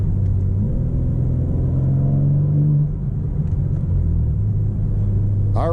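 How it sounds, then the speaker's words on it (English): A 2023 BMW M4 Competition xDrive convertible driving at night, with a close, steady engine rumble and road drone from inside the car. The pitch climbs and then eases as the revs shift midway. "this is how it is to drive the 2023 M4 xDrive at night"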